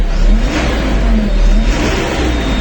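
A heavy MTZ 1204 tractor diesel engine revs up close under load, with a rising whine from a turbo spooling above the deep rumble.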